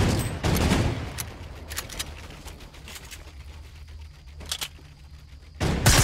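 Bursts of video game gunfire shooting through a wall, with a loud burst at the start and another at the end and scattered sharp shots in between, no voices.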